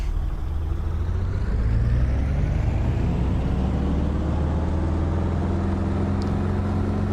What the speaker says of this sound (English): Now listen to the sound as we build up the revs, particularly from the outside view.